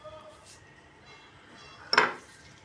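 A spoonful of homemade chili, carrot and raw turmeric pickle drops into a ceramic storage jar with one short clink of utensil on ceramic, alone in a quiet kitchen.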